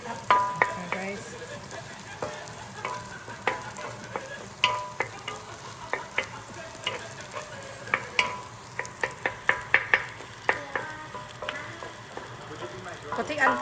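Fried rice stirred and tossed in a sizzling pan: continuous close frying hiss with repeated sharp scraping and clattering strokes of a utensil against the pan, irregular and fairly loud throughout.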